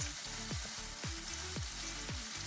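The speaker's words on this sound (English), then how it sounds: "We're gonna let this cook for a little bit on low heat." Cherry and sun-dried tomatoes cooking on low heat in a pan, giving a steady close sizzle with repeated stirring scrapes about every half second, no voices.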